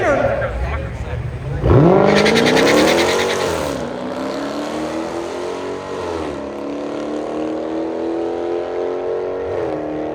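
A BMW drag race car at a Street Outlaws No Prep Kings event in Bowling Green, Kentucky, roars loudly off the line and its engine note fades as it pulls away down the strip, with crowd and commentary noise behind.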